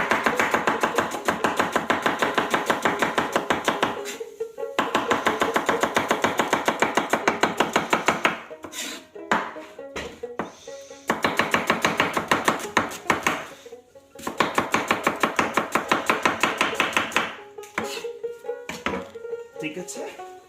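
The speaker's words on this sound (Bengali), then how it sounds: "তো আমি এখন পেঁয়াজ কাটছি।" Onions are chopped with a knife, a fast, steady run of sharp close taps against a board, broken by several short pauses between bursts.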